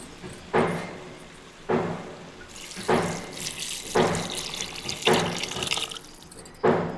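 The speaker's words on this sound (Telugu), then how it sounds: "ముందుగా కలిపి పెట్టుకున్న చింతపండు పులుసుని పోసుకుందాము" Tamarind juice splashes and pours into a pan in several short bursts, each starting with a sharp gush and then trickling. The pouring is close and fairly loud, with no talking.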